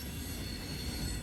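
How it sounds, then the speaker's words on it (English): Freight train of gondolas, covered hoppers, tanks, boxcars and auto racks rolling past with a Norfolk Southern EMD SD70ACE mid-train, a steady close rumble with wheel squeal and rail noise throughout, no voices. "At midpoint of the train was NS 1101, an EMD"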